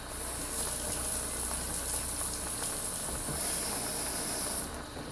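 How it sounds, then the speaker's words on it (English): Water poured into simmering tomato sauce in a pot, giving a steady, soft hiss and sizzle of liquid hitting hot sauce that fades near the end, with no voices. "I'm going to go ahead and add just a little bit of water to that."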